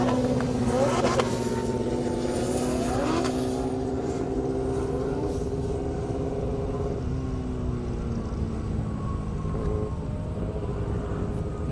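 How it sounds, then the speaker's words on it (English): A drag race car launches hard off the starting line at a half-mile airstrip event, its engine roaring loud and close before climbing and fading away as it pulls off down the strip. "Todd Durham wasted no time, took off"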